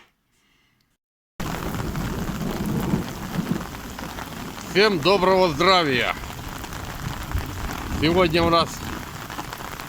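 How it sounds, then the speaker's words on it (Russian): A heavy rainstorm without hail, a loud steady roar of pouring rain joined by low rumbles of thunder, while someone speaks in bursts over it. "Ну, поливает конкретно, я вам хочу сказать."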